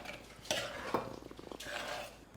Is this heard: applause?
no